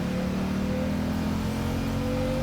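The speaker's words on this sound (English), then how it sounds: "Rev the engines!" Sustained engine revving from a vehicle in the Genshin Impact video game, a steady loud drone with a constant high whine running throughout, no talk.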